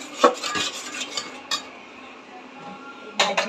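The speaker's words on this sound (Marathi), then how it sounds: "तेल सुटेपर्यंत आपल्याला हे मिश्रण परतून घ्यायचं आहे" A spoon stirs and scrapes a pav bhaji vegetable mixture in a pan, clinking against the metal in short bursts with quieter scraping between, close and without speech.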